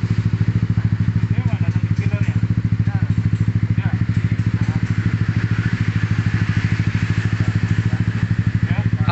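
A Yamaha Aerox 155 scooter fitted with an F2 Racing long exhaust and dB killer idles close by, a steady, rapid low putter with an even pulsing rhythm throughout.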